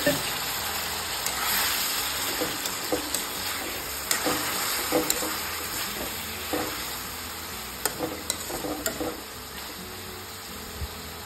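Pumpkin pieces are stir-fried in a pan on low heat, with a steady sizzle running throughout and frequent scraping, clinking stirs of a spoon against the pan.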